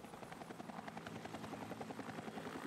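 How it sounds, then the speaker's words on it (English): A rescue helicopter flies in a cold northern setting, its rotor beating in a fast, steady pulsing thump over an engine drone, fairly loud and constant. "A rescue helicopter flew off with Anna more than 2 hours after she had fallen through the ice."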